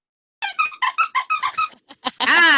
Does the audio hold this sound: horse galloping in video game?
no